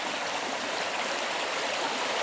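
A trail-side stream at the water source for Watauga Lake Shelter on the Appalachian Trail in Tennessee rushes steadily in winter, a continuous bright wash of flowing water with no voices.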